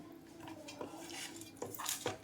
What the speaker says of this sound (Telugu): ఇప్పుడు ఇది మనం మొత్తం అంతా కూడా బాగా మిక్స్ చేసుకోవాలి